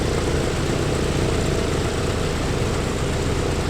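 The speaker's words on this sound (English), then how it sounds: "let's start the engine" A Pratt & Whitney radial engine on a 1948 Berlin Airlift transport in a flight simulator game runs with a steady, loud, dense propeller roar that holds constant throughout without pause.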